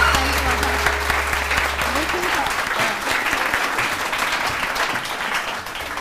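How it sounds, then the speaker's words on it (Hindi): Studio audience at a Pakistani TV morning show clapping in a dense, steady burst of applause, with a host speaking over it at the start. "हम लोग जरा तालियां वालियां बजा दो"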